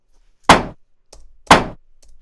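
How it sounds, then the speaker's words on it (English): A tumble dryer door is opened and shut, two loud, sharp thunks about a second apart, each followed by a faint low rattle, close up against silence. "the next sample was opening and closing a tumble dryer door"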